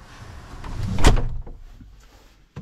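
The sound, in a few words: door of a Hako Multicar M31 truck being opened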